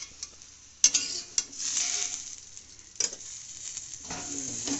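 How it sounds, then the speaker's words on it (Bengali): Eggplant and fish fry quietly in oil, a soft crackling sizzle broken by a few sharp clicks and spatters, close by and fairly faint. "এখন আমার বেগুনগুলো ভাজা হয়ে গেছে।"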